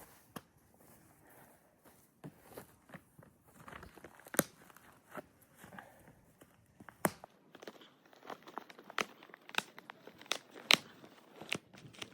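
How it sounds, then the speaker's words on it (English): A plastic-wrapped hay bale is torn open without scissors, heard as close, intermittent crinkling, ripping and crunching sounds in uneven bursts, no talking. "I forgot my scissors to open the hay bale, so I've got this to open it"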